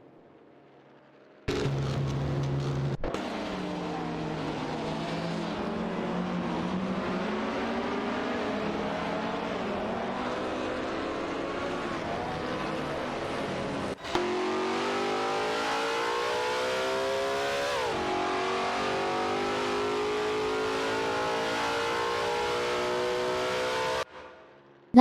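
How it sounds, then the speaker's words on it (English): Racing car accelerating away, engine note climbing through gear changes with rising pitch, loud and continuous for over twenty seconds before cutting out, a brief break midway. "Racing car dashing away."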